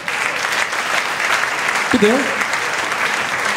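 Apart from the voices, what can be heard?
audience applause at live show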